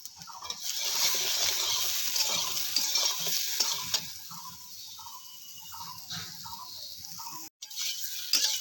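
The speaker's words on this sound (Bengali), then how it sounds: "এদিকে সবজিগুলো ভাজা হচ্ছে" Mixed vegetables for Bengali sukto fry in a pan with a continuous sizzle and occasional stirring scrapes, close and steady, with a brief cut near the end.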